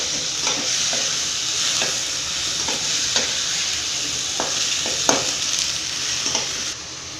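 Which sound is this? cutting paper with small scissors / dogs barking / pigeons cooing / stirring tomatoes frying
stirring tomatoes frying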